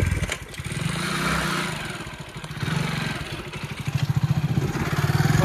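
A motorcycle engine idling and puttering close by, its uneven throb rising and falling with brief revs and a slight clatter, loud and with no voices over it.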